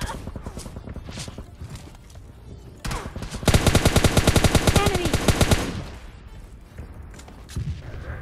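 Rapid automatic gunfire from a PUBG Mobile Lite match, with a dense burst of shots in the middle, lighter scattered shots and footsteps before and after, all under a voice.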